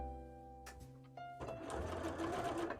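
A sewing machine stitches a seam on a handmade bra, starting up close and steady after a few soft handling knocks, its motor whirring continuously and getting louder toward the end.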